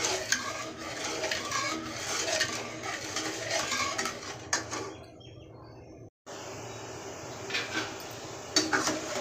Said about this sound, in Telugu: ఒక కప్పు వాటర్, ఈ పంచదార కరిగిపోయేదాకా కలుపుతూ ఉండాలండి.